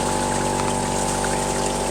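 A water pump in a PVC trommel recirculation setup hums continuously with a steady motor drone and rushing, gurgling water from a tub, close and loud without pause.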